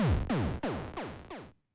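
Boss destroy effect from a Godot 4 2D action RPG: five quick descending zaps or blasts in a row, each falling in pitch, loud and close, ending in silence after about a second and a half.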